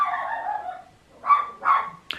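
A dog barks near the microphone in a home, giving two separate mid-pitched barks after a whining, whimpering stretch, with a sharper yip at the very end and no talk.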